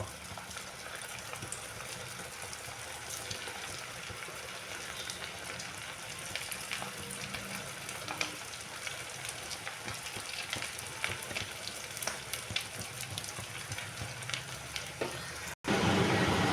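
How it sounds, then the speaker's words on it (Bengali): Carrot and potato snacks frying in hot oil, a loud, steady, close sizzle and bubbling that runs throughout, with a louder burst right at the end. "তেলের উপরে তেলটা আমার গরম হয়ে গেছে একটা একটা করে আমি সবগুলোই দিয়ে দেবো"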